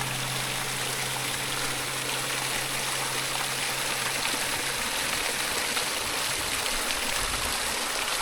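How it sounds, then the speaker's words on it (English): A drinking water fountain in Chile's Osorno volcano region runs with a steady, continuous splashing and trickling of water, fairly quiet and even, with no voices. "Apparently this is a drinking water fountain."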